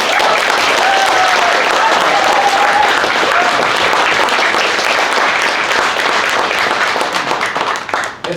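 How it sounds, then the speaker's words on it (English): An audience applauds at a panel event at a Montreal festival: dense, sustained clapping from a sizeable crowd, loud and even for several seconds before thinning out and fading at the close. "applause."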